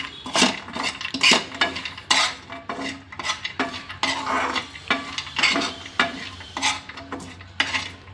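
Spicy peanuts tossed and mixed in a pan, with a brisk, repeated rhythm of metal spoon scraping and rattling against the pan, close and fairly loud, alongside a faint sizzle.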